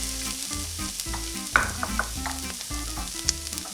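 Rice stirred into bottle gourd frying in ghee with spices and curry leaves, a steady sizzle under scraping spoon strokes and a few sharp clinks, with music playing quietly beneath.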